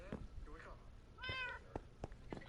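Several cats meowing in Minecraft, a few short mews followed by one longer, clearer meow in the middle, heard under a person talking.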